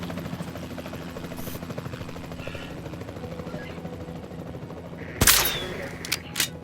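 Helicopter in the Jurassic World Evolution 2 video game, a steady rotor drone throughout, then a sharp loud tranquilizer gunshot near the end followed by a couple of smaller hits.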